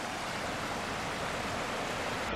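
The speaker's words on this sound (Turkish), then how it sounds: "Çok güzel şelale gibi su akıyor." Spring water pours out like a small waterfall at Pınar Gözü in Isparta, a steady loud broadband rush with no break, close by and without voices.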